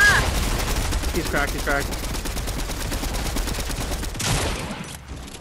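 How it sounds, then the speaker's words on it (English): Rapid bursts of gunfire rattle through a Fortnite match, dense overlapping shots continuing under a player's voice, with a louder burst near the end. "Somebody else is shooting."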